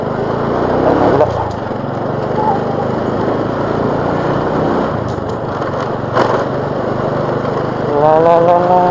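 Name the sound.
motorcycle engine running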